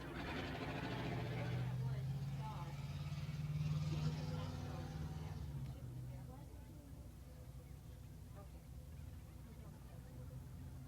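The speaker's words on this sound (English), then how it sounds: "the Parks for Cars tow truck being put to good use here as it'll haul Kevin Parks back into the pit area now" A tow truck at Brighton Speedway rumbles past hauling a street stock race car toward the pits, a loud engine drone swelling and then fading, with a commentator talking over it.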